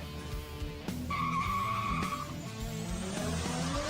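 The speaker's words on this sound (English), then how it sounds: "warming up tyres in anticipation for his run" A drift car warming its tyres before a run at a Philippine Drift Series event, tyres skidding and squealing loudly over the engine, with a sustained shrill squeal in the middle of the burst.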